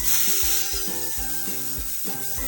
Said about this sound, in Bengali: ফোড়নটা আমি ভেজে নেব, তারপরে আমি আমগুলো দিয়ে দেবো।